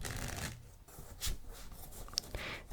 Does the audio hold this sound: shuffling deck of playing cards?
yes